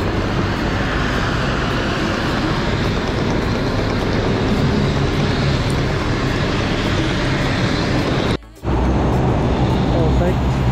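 A steady, loud roar of engine and air noise fills an airliner cabin on a KLM flight from Luxembourg to Amsterdam. One brief dip in the noise comes near the end.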